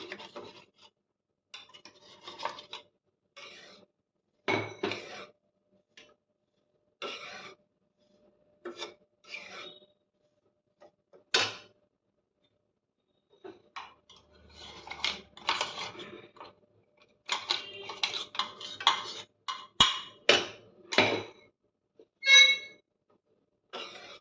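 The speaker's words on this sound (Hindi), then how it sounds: "ये पोहा और काजू और बादाम इनको भी पीस लिया है। अब इनको इसमें मिला लेंगे।" Ground poha, cashews and almonds get stirred into a pan with a spoon, giving intermittent scraping and rasping strokes in short bursts separated by silences, growing busier and denser toward the end.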